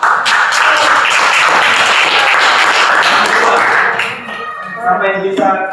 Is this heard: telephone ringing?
no